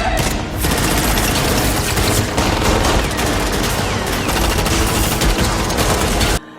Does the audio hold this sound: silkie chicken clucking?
no